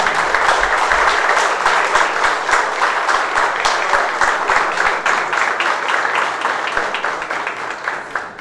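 Sustained crowd applause at a housing construction agreement signing in San Javier, Santa Fe, loud and dense clapping lasting several seconds without speech.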